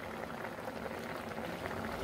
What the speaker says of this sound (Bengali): লো টু মিডিয়াম ফ্লেমে বয়ল করে নেব।